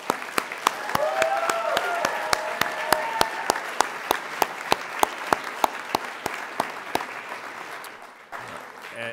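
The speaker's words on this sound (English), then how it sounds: "I want to offer another round of applause to not only our 6 finalists," An audience applauds speech finalists and participants at a Phi Beta Kappa speech event, with a steady wash of clapping, sharp individual claps standing out at a regular pace, and some voices early on, fading near the end.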